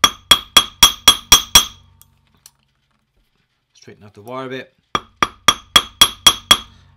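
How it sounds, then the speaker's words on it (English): A hammer strikes metal wire to round off its edges and taper the end, in a rapid run of about seven sharp, ringing blows, then a pause with a spoken remark, then another run of about eight loud strikes. "So obviously the first way is bash it with a hammer."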